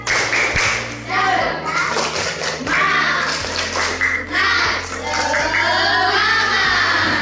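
A classroom of children performs a rhythmic spirit clap together, a series of patterned claps in quick groups, mixed with young voices calling out and chanting along.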